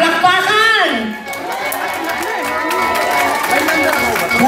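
A lively audience at an opening comedy show cheers, whoops and claps for a performer, loud and close, with shouts and a whistle rising over the continuous applause and voices mixed in.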